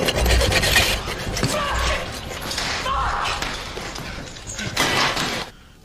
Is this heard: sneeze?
no